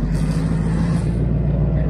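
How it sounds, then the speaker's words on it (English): A truck rumbles past close by, a loud broad engine roar that fades slightly toward the end. "Truck coming by making noises."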